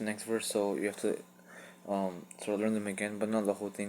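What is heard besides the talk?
None of the usual background noises is heard.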